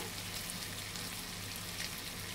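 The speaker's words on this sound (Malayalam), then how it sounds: "ഇനി സവോള ഇട്ട് കൊടുക്കാം സവോള ചെറുതായിട്ടൊന്ന് വഴന്നാൽ മതി" Onions gently sautéing in a pan for butter chicken, a faint soft sizzle running evenly throughout with no talking.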